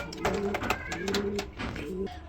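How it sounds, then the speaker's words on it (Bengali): A pair of black Lahori pigeons coos steadily and close up, repeated throaty rolling calls over a constant background hum, with no voices. "এক জোড়া লাহোরি কবুতর দেখাবো, ব্ল্যাক কালারের মধ্যে লাহোরি"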